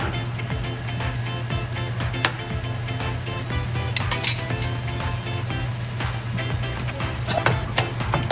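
Paneer frying in oil with butter or ghee for a Hyderabadi-style paneer biryani gives a steady, close sizzle that crackles throughout, with a low hum beneath and a few sharper pops.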